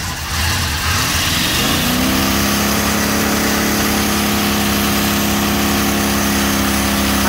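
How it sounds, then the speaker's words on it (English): A 1987 Cadillac with a 5.0 engine is pushed to redline: after a brief low rumble the revs climb quickly, then hold at a loud, steady, high-pitched drone that lasts to the end with no voices. "All right, rev it up."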